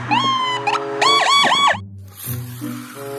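A small electronic toy ambulance siren wails in rising and falling tones, close and loud, then cuts out to quieter toy motor hum and rattling.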